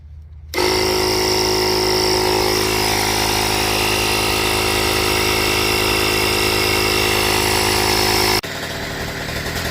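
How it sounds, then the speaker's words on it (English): A small mini bike engine started for the first time after sitting all winter runs loud and steady at a high buzzing idle for several seconds close by, then cuts back abruptly near the end. "not bad for a first startup after sitting all winter"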